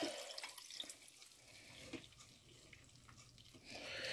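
Homemade Jamaican sorrel drink is strained, a faint, steady trickle and splash of liquid running through a strainer into a container, quiet and continuous for a few seconds.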